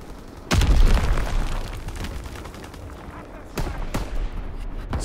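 Mortar rounds striking in Call of Duty WW2 gameplay: a heavy, booming explosion lands first with a long rumbling tail, then a second blast follows a few seconds later amid ongoing battlefield noise.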